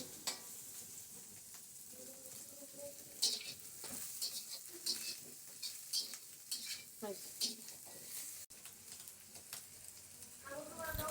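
Onions and green chillies sizzling and frying in a pan while being stirred, with steady crackle, scraping utensil clatter and a faint voice at moments.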